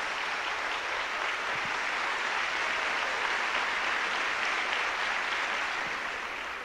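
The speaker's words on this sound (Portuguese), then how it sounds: "Batam palmas agora os jovens, só os jovens batam palmas" Young people in a church audience clap together in steady, dense applause that fills the space at an even level throughout, with no talking over it.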